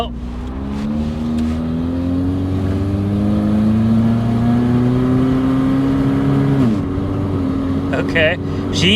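The engine of a 1992 Saturn SL2 beater car runs rough and sputters, a loud close drone wavering in pitch before dipping sharply, with a few brief voice sounds near the end.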